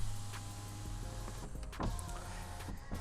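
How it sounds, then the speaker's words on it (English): Power windows on a Volkswagen ID4 electric car hum with a steady motor whine, close by and constant, with faint clicks of the switches near the end. "the window switches control the front windows"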